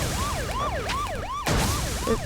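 A police siren in Roblox wails, rising and falling repeatedly at a steady rhythm, loud and close, with a sharp burst of noise partway through.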